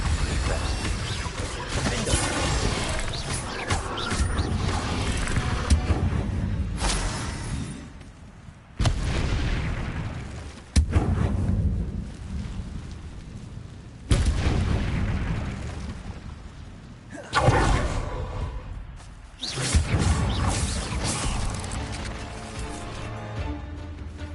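Confringo blasting spells in a Harry Potter video game, with a series of loud, booming explosions, about five heavy blasts in succession, each bursting and rumbling before the next strikes.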